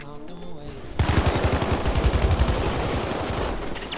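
Rapid machine gun fire in the Battlefield 1 video game, set in World War I, rattles in a dense, loud, evenly spaced burst of shots for about three seconds after a brief moment of voice and game sound.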